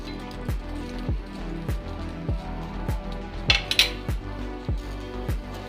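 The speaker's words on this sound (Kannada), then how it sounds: "ಈಗ ನಾವು ಬೆಂಡೆಕಾಯಿ ಹಾಕ್ಕೊಂಡು ಹುರ್ಕೊಳ್ಳೋಣ" Okra pieces tumble into a pan one after another for frying, giving a steady run of roughly nine clacks and clinks about half a second apart, with one brighter metallic clatter midway.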